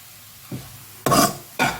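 Tamarind sautés in sesame oil for curry leaf thokku, with a soft scrape followed by two short bursts of stirring and sizzling close to the pan.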